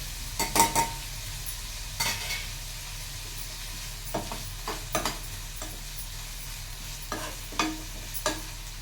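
Onions and green chillies with rock salt frying in a pan, a low steady sizzle broken by scattered scraping stirs and light utensil clinks against the pan, close by with no voices.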